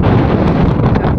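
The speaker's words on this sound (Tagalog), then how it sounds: "Ang sarap ng hangin dito" Strong wind buffets the microphone in a loud, continuous roaring rush with no other sounds standing out, while biking in Bayawan, Negros Oriental.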